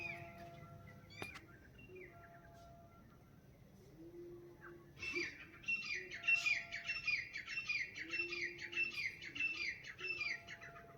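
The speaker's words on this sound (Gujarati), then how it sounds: "કોયલની કિલકારી" An Asian koel calls on a morning outdoors, a series of repeated rising whistled notes, moderately near, with other bird chirps and squawks around and no talk.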